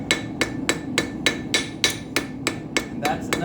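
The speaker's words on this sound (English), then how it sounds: "I'm barely even holding the hammer." A hand hammer, held loosely near its tip and allowed to drop, strikes hot steel while forging a nail on an anvil. About a dozen crisp, ringing blows land in an even, steady rhythm, close and clear.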